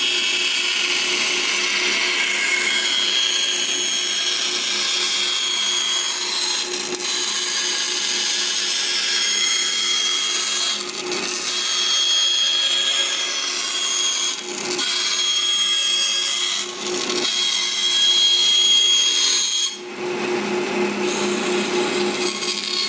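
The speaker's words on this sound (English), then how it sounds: "Let's take her to the bandsaw and cut her out." A bandsaw cuts out a homemade orbital sander pad, its motor whining steadily throughout while the blade bites the material, with several brief pauses and restarts as the cut is guided along the line.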